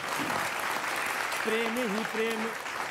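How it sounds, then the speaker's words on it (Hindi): A seated audience at a political speech claps steadily in a dense, continuous patter, while a voice speaks briefly over the clapping partway through. "थोड़ा ताली बजाओ, जोर से बजाओ"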